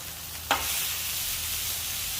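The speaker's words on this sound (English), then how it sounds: "Let's go ahead and flip our burgers one more time" Burgers sizzle loudly on a flat-top cast iron griddle, a sudden scrape and flip kicking up a strong, steady hiss that holds after the turn, with no talking.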